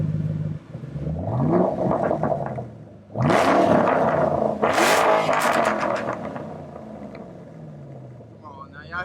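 A Shelby GT500 with its catalytic converters deleted revs up close by, giving two loud rising blasts between lower idling rumbles, while people talk over it.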